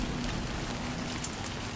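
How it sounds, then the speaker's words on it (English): Steady rain falls and patters on surfaces in the video game Death Stranding 2, a continuous, even hiss of drops with no talking. "Just sit tight, try to wait out the rain."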